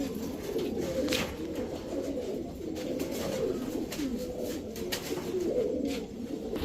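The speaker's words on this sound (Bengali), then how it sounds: "এই যে কবুতর দেখেন, টাকা দিয়ে কবুতর নিবেন, দেখে শুনে বুঝে নিবেন।" Pigeons, Pakistani teddy, racer and high-flyer breeds kept for sale, coo in soft overlapping rolling calls, a continuous throaty murmur close by with no voices.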